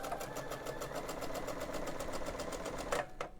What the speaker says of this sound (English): and sew